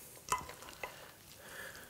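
A spatula or spoon gently folds plum pudding mixture in a bowl, giving soft wet scrapes and a couple of light taps against the bowl, quiet and close with no talking.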